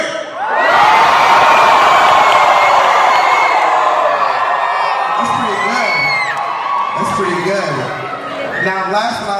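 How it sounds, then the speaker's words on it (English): A theatre audience at a live drag extravaganza at the Troxy in London bursts into loud, sustained cheering, whooping and high-pitched screaming from many voices, swelling fast and holding, then fading a little toward the end. "everyone in this room to cheer and scream as loud as you can"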